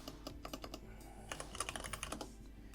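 Fingers type quickly on a computer keyboard to rename a sketch in Fusion 360 CAD software, with two bursts of close, crisp clicking separated by a short pause. The keystrokes are quiet and heard alone.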